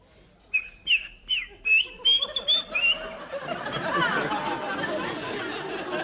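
A person whistles through the mouth alone, imitating a Baltimore Oriole call in a string of short, clear, bird-like phrases. A broad rustling wash of crowd noise follows and swells.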